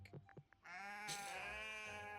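Sheep from the Animal Farm video game bleat, a few short soft calls followed by one long, loud, wavering bleat that carries to the end, close and clear with no talk.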